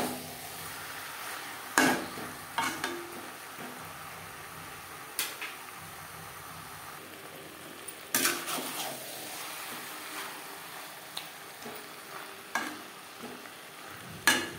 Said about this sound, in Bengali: মেটের সাথে আলু বেশ ভালো করে মিক্সড করে দেব।